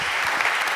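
A church congregation bursts into applause and acclaim for the Lord during a sermon: dense, close clapping that fills the whole moment, with no words spoken.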